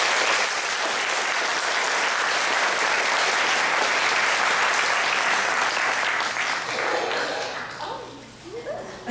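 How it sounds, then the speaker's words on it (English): A crowd claps enthusiastically at a school student singing event honoring seniors, a sustained burst of applause that fades out near the end, with scattered voices mixed in. "Round of applause for Ms. Janine."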